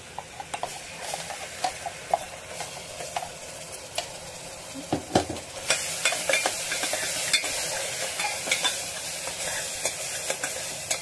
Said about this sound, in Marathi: वाटलेला मसाला टाकायचा, तर तेल सुटस्तोवर भाजून घ्यायचं।